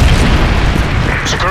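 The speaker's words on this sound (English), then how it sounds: "Very Predator missile inbound." A Predator missile strike in Modern Warfare 3 lands as a heavy, booming explosion with a rumbling low-end burst that fills the short moment, loud and close amid in-game noise.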